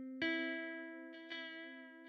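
A Chill Guitar preset in FL Studio, with its distance, cabinet and pad mix turned down, plays a couple of clean, drier guitar notes that sustain and fade slowly, with a short pluck between them and no voices.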